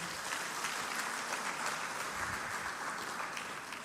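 An audience at the Peradeniya University international research symposium applauds its award recipients, a steady, fairly quiet wash of clapping from a large crowd heard from a distance and sustained throughout.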